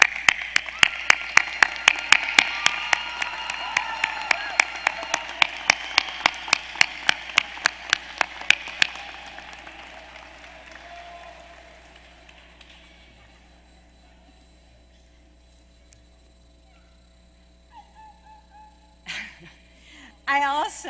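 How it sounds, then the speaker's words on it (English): Graduates clapping at a law school hooding ceremony, a rhythmic round of applause with sharp distinct claps that fades out after several seconds, followed by quiet room tone and a few faint sounds. "give them a well-deserved round of applause"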